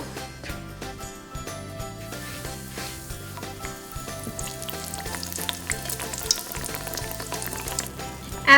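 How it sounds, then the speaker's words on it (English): Homemade fried apple pies frying in oil heated to 400 degrees, a steady loud sizzle and crackle that runs throughout, with a brief clink near the end. "my mom's going to help me fry them up."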